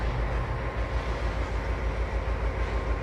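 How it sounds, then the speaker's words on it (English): A freight train in the Trainz 2022 railway simulator rumbles past in a deep, steady roll of wheels and heavy cars, loud and continuous with no talking. "It's another freight train coming through."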